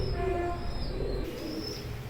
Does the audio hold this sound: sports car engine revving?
no